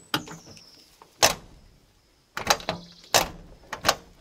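A truck's cab door swings shut with a sharp, loud slam around the middle, then a second door closing follows with several rattling clacks from a worn-out, rotten lock, all close up with no talking.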